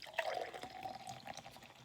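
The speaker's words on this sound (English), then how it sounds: "Let's pour some in here." Brewed dark-roast coffee pours into a cup in a short close splashing stream with a few drips, soft and alone.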